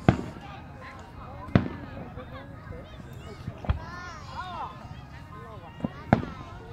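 Fireworks pop and crack nearby, heard from a Jeep ride: five or six sharp bangs spaced a second or two apart, with faint voices and background chatter in between.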